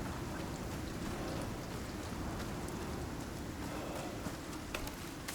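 Steady rain storm in the survival video game Icarus, a dense continuous hiss of falling rain with scattered drop patter, loud and unbroken throughout with no talking.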